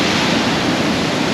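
Waterfall pouring into rock pools along a hiking trail, a loud, close, steady broadband rush of falling water with no voices.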